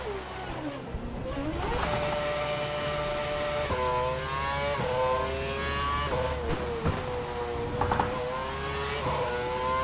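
Formula 1 race car engine at Abu Dhabi in the F1 2012 game, a high whining note climbing and dropping through repeated gear shifts as the car brakes for a slow corner and accelerates again, loud and continuous.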